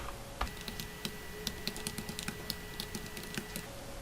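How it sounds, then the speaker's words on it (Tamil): Rapid, steady keystrokes on a computer keyboard while entering text into an Excel spreadsheet, a run of close, crisp clicks with no voices. "இப்போ பிரான்ச்சுங்கிற அந்த ஹெட்டிங்கையும் மதுரை, சென்னைங்கிற இந்த 2 பேரையும் இங்கே டைப் பண்ணியிருக்கேன்"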